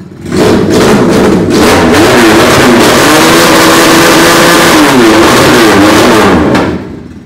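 A loud Force Motors BMW Y3 motorcycle engine revs up and down repeatedly, close by, with rough exhaust pops and no voices.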